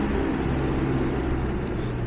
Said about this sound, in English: internal combustion engine truck drove by